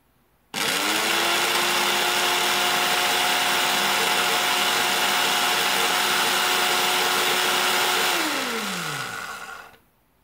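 A Lidl SilverCrest 180-watt smoothie maker runs on mains power with a loud, steady motor whine and whir that starts abruptly, holds for about eight seconds, then winds down in pitch before stopping.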